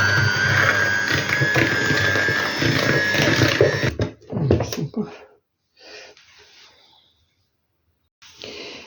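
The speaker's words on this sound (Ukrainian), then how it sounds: "А якщо бажаєте, маєте міксер, можна міксером швиденько збити." An electric mixer beats batter for a berry pie with a steady, loud mechanical whir for about four seconds before stopping, followed by quieter clinks and handling noises with brief gaps of silence.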